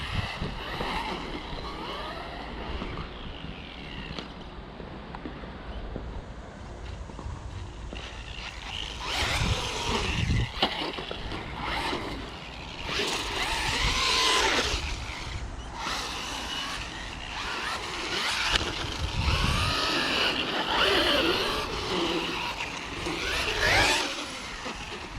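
A Hosim X07 RC car drives and drifts on slippery tires at a skate park, its high electric motor whine rising and falling with revving, skidding bursts, and wind noise on the microphone.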